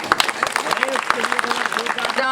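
At a political rally, a crowd claps in quick scattered bursts, the sharp hand claps running beneath a woman's loud speech.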